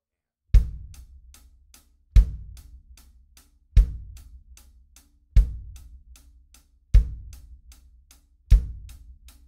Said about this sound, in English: if I take just the hi-hat and the bass drum for groove number one